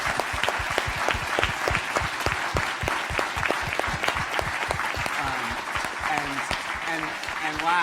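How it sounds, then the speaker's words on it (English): Conference audience at a national security innovation event gives a big round of applause, dense sustained clapping throughout, with a voice speaking faintly over it near the end. "I hope all of you will join me in a big round of applause"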